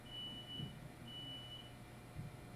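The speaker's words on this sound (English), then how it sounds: "What is that beeping sound?" Repeated electronic beeping inside the Call of Cthulhu video game, a thin high tone sounding twice in steady pulses over a low ambient drone, moderately faint and with no talk.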